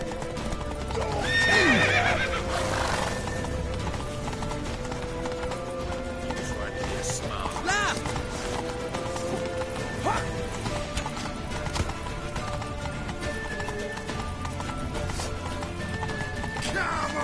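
A horse in The Witcher 3 gallops with rapid clip-clop hoofbeats and lets out a loud whinny early on, set against game music and character shouting that runs throughout.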